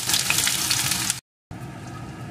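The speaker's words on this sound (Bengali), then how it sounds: "তেলটা গরম হয়ে গেছে, এখন এর ভিতরে দিয়ে দেব একটা পেঁয়াজ কুচি" Chopped onion fries in hot mustard oil with a loud, dense sizzle that cuts out briefly, then returns at a lower level.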